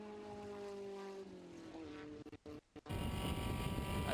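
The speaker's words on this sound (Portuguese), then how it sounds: "Aí você vai conferindo o ronco do motor do Léo Yoshi." A race car engine roars along a track straight during a race, a sustained high-revving tone that shifts pitch, cuts out briefly, then returns as a broad, noisy roar.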